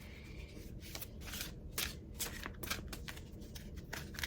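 Tarot cards are shuffled by hand in quick, papery riffles and slides, several short bursts of crisp flicking close up, with no talking.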